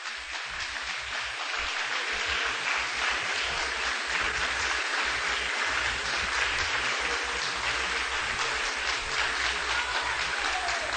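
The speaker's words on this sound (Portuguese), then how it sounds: "Receba o servo do Senhor com louvor de palmas para Jesus." A church congregation claps in praise for a visiting preacher, a sustained, even wash of many hands clapping that holds steady for about ten seconds without anyone speaking.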